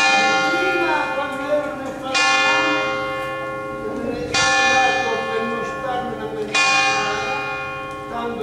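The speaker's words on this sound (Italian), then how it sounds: "abbiamo un concerto di 5 campane che adesso ascolteremo" Five bells ring in concert from the Duomo di Santa Maria Maggiore cathedral in Valenza, calling people to an evening festive Mass. The strikes are loud and resonant, falling every couple of seconds, and each one overlaps the long ringing decay of the last.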